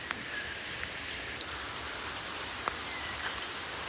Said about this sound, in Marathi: पाऊस आले पक्या जोरात